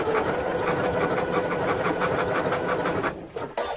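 A Janome Memory Craft 9450QCP sewing machine runs close by at a steady, fast mechanical whir with rapid needle clatter, then slows and stops with a few clicks at the end.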